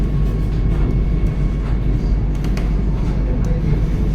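Interior of a Vande Bharat Express running at night after leaving Tatanagar, a loud, steady low rumble and roar of the moving train with faint rhythmic clicks, continuous throughout.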